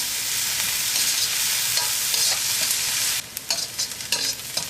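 Sliced onions and curry leaves fry in hot oil for a Kerala egg roast, a steady close sizzle with stirring scrapes throughout, growing choppier with clattering stirs in the last second and a half.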